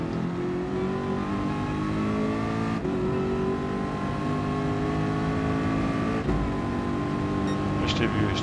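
A race car in Gran Turismo Sport drones at high revs while spinning and smoking its tyres, a steady, loud engine tone with a few brief dips as the pitch shifts.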